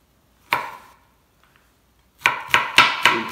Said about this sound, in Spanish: Y vamos a picar el ajito.